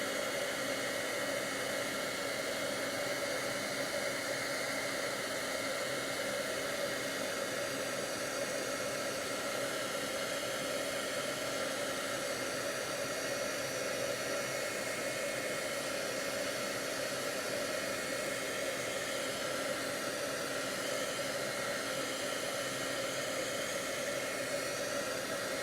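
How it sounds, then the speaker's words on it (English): A heat tool blows hot air continuously during watercolor crafting, a steady loud broadband whoosh with a whine held evenly throughout and no talking. "Turn on your heat tool and heat that up."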